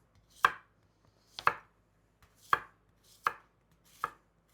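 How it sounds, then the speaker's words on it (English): A knife slices zucchini into rounds on a cutting board: five crisp, evenly spaced chops close by, each a sharp tap with a short crunchy tail, and near silence between them. "we're going to slice these up about the same size. I'm going to do rounds with these."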